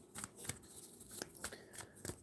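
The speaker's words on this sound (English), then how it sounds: "I'm shuffling the cards" Tarot cards being shuffled by hand, close up: a run of quick papery riffles and snapping bursts at an uneven rhythm, with no voices.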